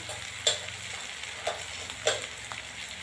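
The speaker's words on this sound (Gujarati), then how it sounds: "જોઈ શકો ડુંગળી બી સરસ મજાને શેકાવા આવી ગઈ છે" Onions and peas fry in a pan for a winter rice dish, giving a continuous close sizzle with a few soft stirring scrapes and clicks, steady and unbroken throughout.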